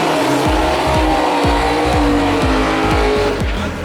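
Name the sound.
Nissan GTR quarter-mile drag race run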